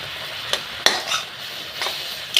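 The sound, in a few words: stirring chalta pickle with fennel powder in a pan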